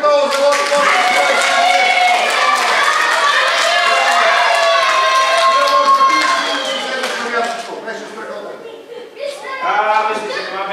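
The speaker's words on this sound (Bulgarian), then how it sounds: "Аплодисменти отново за Лошо Бошо!" Applause from an audience of children and adults at a road-crossing safety event, cheering a performer called Losho Bosho; loud, steady clapping over lively voices and music-like tones, fading slightly toward the end.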